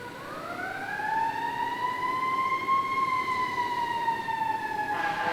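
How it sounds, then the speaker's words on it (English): A wailing emergency siren rises and holds in a long steady tone, heard from a distance across an outdoor disc golf course, alone without talk. "Got some sirens in the background"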